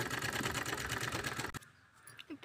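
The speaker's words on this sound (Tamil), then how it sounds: "பெரிய தையல் வச்சு போட்டுக்கோங்க." A sewing machine stitches fabric for a drawstring wrist bag using a long stitch length, running in a fast, steady, close rattle for about a second and a half before stopping abruptly, leaving quiet handling noises.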